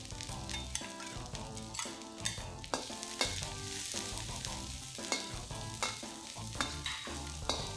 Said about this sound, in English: Fry this for another 30 seconds to a minute.